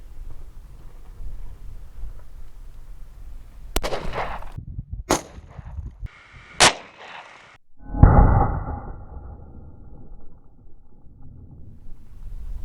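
Three sharp, loud gunshots from a Smith & Wesson M&P 2.0 10mm pistol fire at an outdoor range, spaced about a second apart. A heavier muffled impact follows, over steady wind noise.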